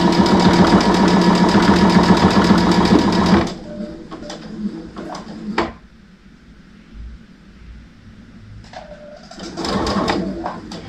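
Sewing machine stitching fabric for a simple drawstring bag, a loud fast rhythmic whir for about three seconds, then stopping, followed by scattered handling clicks and another short burst near the end.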